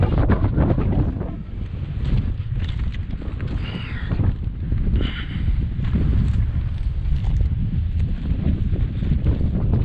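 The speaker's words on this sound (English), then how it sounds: "Oh yeah, there's some wind." Strong gusting wind buffets the microphone in open hills beside a dirt road, a loud continuous low rumble with rising and falling gusts and no talking.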